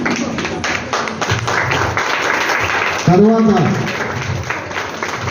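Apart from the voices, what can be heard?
audience clapping loudly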